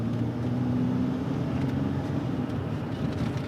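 Steady, low engine and road drone inside a 2015 Toyota Highlander rolling slowly at about 25–30 mph while braking gently, a continuous even hum with no sharp noises.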